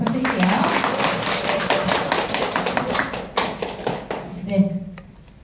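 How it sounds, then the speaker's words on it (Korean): An audience at a Korean product lecture claps steadily for several seconds, dense close applause with a voice over it, before the clapping thins and stops. "큰 박수 한번 부탁드릴게요"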